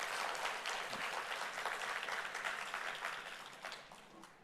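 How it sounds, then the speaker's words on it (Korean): A church congregation at a Sunday worship service in Kuala Lumpur breaks into sustained applause of encouragement, a dense, steady wash of many hands clapping that slowly fades, heard from a distance with no speech. "이 벅차오름을 또 격려의 박수로 올려드리면 어떨까요?"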